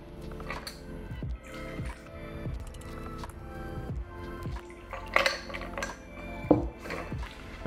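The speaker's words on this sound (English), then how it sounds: "you're gonna strain it into your favorite cocktail coupe" A Toronto cocktail strained from a shaker into a coupe glass: soft liquid trickling and dripping with light metallic and glassy clinks, fairly quiet and steady throughout.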